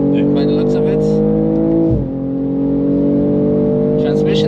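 BMW G42 M240 xDrive with a ZF automatic accelerating hard on the Nürburgring, heard from inside the cabin: a loud, steady engine drone that climbs in pitch, dips briefly at a gear change near the middle, then pulls on under a voice talking.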